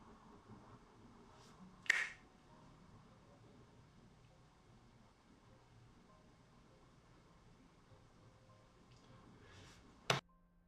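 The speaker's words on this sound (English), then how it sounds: "When I snap my fingers," Two sharp, isolated finger snaps, one early and one near the end, ring out against a quiet room background in the video game Telling Lies; no one speaks.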